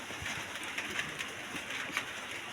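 Domestic pigeons coo softly and repeatedly in a pair, the low calls fairly faint against a steady background hiss with a few brief louder peaks.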